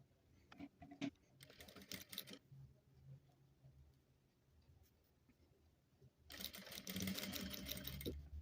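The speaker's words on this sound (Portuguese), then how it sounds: "E passo uma costura pé de máquina." Home sewing machine stitching a right-sides-together seam on a Mondrian-style fabric bag, with two bursts of fast whirring, a short one early and a longer run at the end, separated by quiet handling and light clicks.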